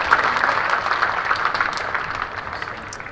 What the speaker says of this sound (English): tremendous applause here for Matt Taylor's wicket maiden